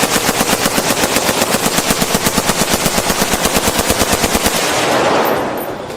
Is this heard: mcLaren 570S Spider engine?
no